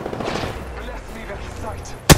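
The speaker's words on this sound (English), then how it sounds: "Opening fire." Weapon fire in the online shooter Apex Legends, a loud burst of shots cutting in sharply at the very end after a stretch of game sound and a voice.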